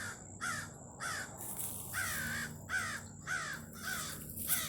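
A mating pair of crows calling near their nest by a lake, harsh repeated caws coming in a steady rhythm of about six calls, fairly close and loud, over a constant high whine.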